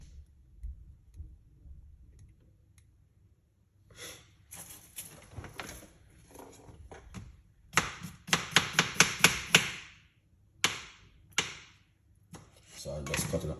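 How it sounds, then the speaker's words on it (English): A knife chops cucumber on a cutting board in bursts of sharp, quick knocks, one rapid run of about ten strokes standing out, close by in a quiet kitchen with a faint voice. "So I'm just cutting up the cucumber."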